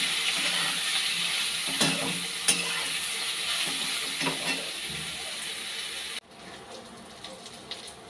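Soybean chunks frying in a pan with turmeric and salt, a bright steady sizzle with occasional stirring scrapes that drops abruptly to a quieter simmer near the end.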